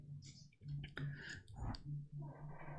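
Quick bursts of keyboard typing clatter at close range, fast irregular clicks layered over a low steady hum, with no voices.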